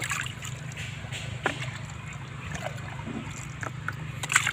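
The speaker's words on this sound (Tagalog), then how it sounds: "Dagdagan natin ng tubig." Water is poured into eggplant fertilizer, a mixture with triple 14 granules, giving a soft continuous trickling and sloshing with a few sharper splashes, close and fairly quiet.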